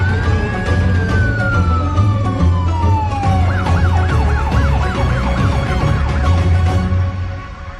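A police car siren in a Hindi-dubbed South Indian action film, one long falling wail giving way to a fast, repeating yelp, loud and close over a low engine rumble, with no talking.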